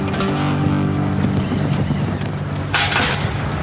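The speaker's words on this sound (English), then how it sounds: "The Levanta wind has been steadily rising throughout the afternoon, and that could spell trouble." Strong Levante wind roars and buffets steadily outdoors, with gusty rumbling and rushing noise throughout and no voices.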